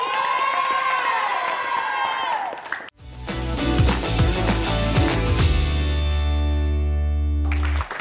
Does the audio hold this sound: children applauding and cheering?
yes